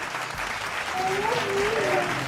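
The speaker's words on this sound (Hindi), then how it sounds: "इधर तालियां बजाने" Studio audience applause at a Ramadan quiz show, a steady wash of clapping that carries on for a couple of seconds while a voice speaks briefly over it.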